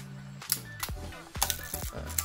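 A Yashica Electro 35 rangefinder film camera being handled as its shutter is cocked, giving a quick series of sharp mechanical clicks and ratcheting snaps, close up and fairly quiet.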